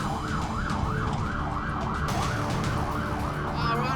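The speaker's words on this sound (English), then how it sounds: "let me put a nicer siren on" An Australian ambulance racing to a javelin injury sounds its siren in a steady, rapid rising-and-falling wail, loud and close over the vehicle's engine rumble from inside.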